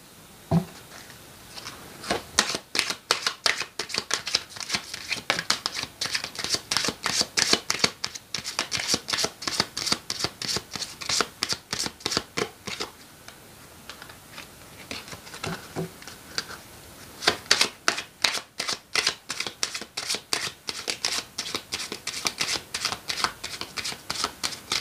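Tarot cards are shuffled in quick, rhythmic riffling bursts, close and crisp, with repeated flurries of rapid flicks and short breaks over nearly half a minute, no voice present.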